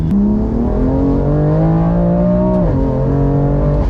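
A BMW M2, the lightest M car, carrying the older F-series M3/M4 engine, revs hard and close up, its loud tone climbing steadily before a quick shift drops the pitch and it pulls again.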